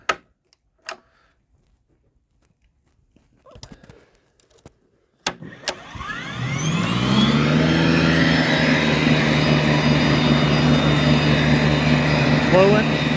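A Ryobi 408150 22-inch electric snowblower starts after a few clicks and handling knocks, its motor rising to a loud, steady roar that runs for about seven seconds at close range.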